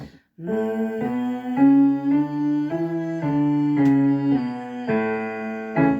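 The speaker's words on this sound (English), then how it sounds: "And some humming." A single voice hums a vocal warm-up before a chromatic scale, sustaining a string of clear steady pitches that step gently up and down, close and fairly loud with no words.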